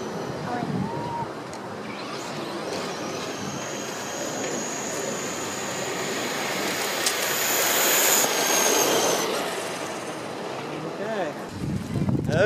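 Two Traxxas Stampede RC trucks, one brushed and one brushless, race past with a high electric motor whine that rises and fades as they move, and people talk and call out under it.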